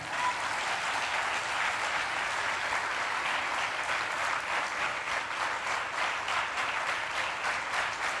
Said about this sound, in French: Et maintenant, oui, on peut l'applaudir bien sûr aussi.